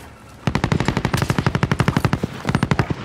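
Rapid automatic gunfire in Call of Duty: Modern Warfare, a loud close burst of evenly spaced shots firing continuously after a brief quiet start, with a short pause before a final volley.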